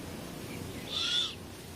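A great horned owl calls during a territorial fight with a red-tailed hawk: one brief, fairly faint call rising out of a quiet, low rumbling background.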